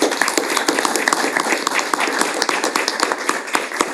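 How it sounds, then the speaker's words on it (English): Applause from the audience at a Douglas County Board of Commissioners business meeting, a dense steady patter of many hands clapping close by for the full stretch, with no voices over it. "Let's have a round of applause for everybody here."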